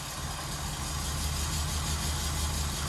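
A barn-find Mk1 VW Golf GTI under restoration idling, a low steady engine burble with a slightly uneven, missy pulse, fairly quiet and close, with no talk.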